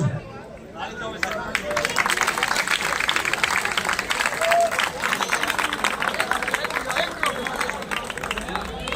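Village crowd at a gathering in Haryana applauding, sustained dense clapping for several seconds after a short lull, mixed with crowd chatter.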